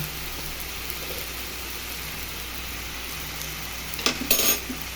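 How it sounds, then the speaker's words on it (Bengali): Ground coriander, cumin and turmeric are stirred together in a pan for a Bengali prawn curry with potato and pointed gourd, a soft steady scrape under faint sizzling, then a short clatter of utensil on pan near the end. "সব একসাথে মিক্স করে ভালোভাবে"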